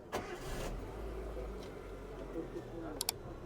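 A Daewoo Matiz's engine running quietly with a low, steady rattling hum and a couple of sharp clicks near the end.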